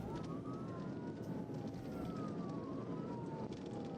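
Police car sirens wail in sweeping rising and falling tones over heavy, constant road and engine rumble, steady and fairly loud throughout as the pursuit carries on at very high speed.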